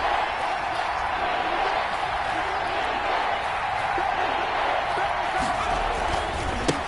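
Stadium crowd at an American football game, a steady dense roar of many voices that holds at a loud level throughout, with faint scattered thumps and claps inside the din.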